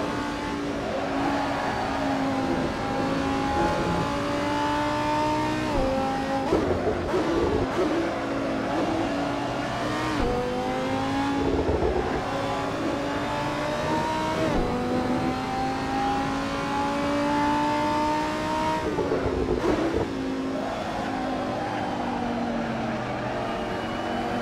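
A race car engine in Assetto Corsa on Xbox One, played with a Thrustmaster TX wheel, revs high and continuously, its pitch climbing through each gear and dropping sharply at several upshifts, loud and unbroken throughout.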